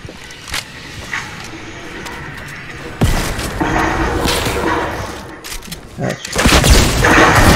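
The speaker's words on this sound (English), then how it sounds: "There goes a rocket." A rocket exploding in a shooter video game, with a heavy blast partway through and a second loud burst near the end, set among smaller thuds and whip-like cracks, while players talk over it.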